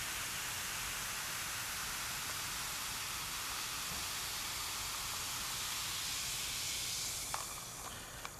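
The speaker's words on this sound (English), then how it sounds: "Oh, see the fizz." Freshly poured Surge soda from Coca-Cola fizzing in a steady, dense carbonation hiss that holds for several seconds before easing off, with a couple of small clicks near the end.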